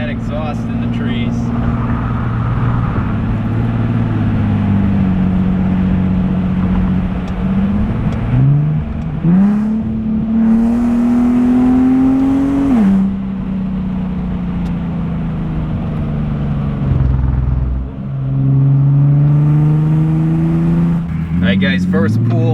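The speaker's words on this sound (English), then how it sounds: "Listen to that exhaust in the trees." Exhaust of an Infiniti G37 sedan accelerating hard on a racetrack, a loud sustained engine drone climbing through the gears with shifts, close and continuous under a speaking voice.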